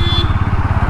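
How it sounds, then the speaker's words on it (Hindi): A Bajaj Pulsar NS160 motorcycle engine lugs in fifth gear at low road speed, giving a close, steady, low throbbing rumble of rapid even firing pulses with no talk over it. "पाँचवें गियर में 25 की स्पीड पे ये बाइक चल पाती है।"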